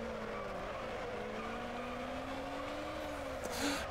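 Racing car in a racing video game spinning out, its engine holding a steady whine that slides in pitch, then a brief loud tire skid near the end.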